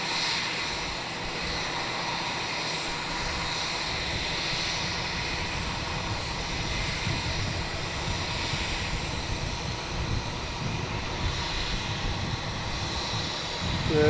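An airliner with a bright orange tail approaching Melbourne Airport at night, its engines a steady broad roar that holds evenly throughout, fairly loud and heard alone.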